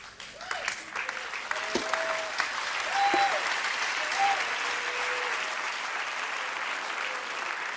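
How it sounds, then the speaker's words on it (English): Sustained applause and cheering from an audience at a church leadership conference, a dense steady clatter of clapping throughout with occasional whoops, while a voice speaks over it. "let's give Danny another cheer"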